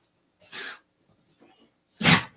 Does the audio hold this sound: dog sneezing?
yes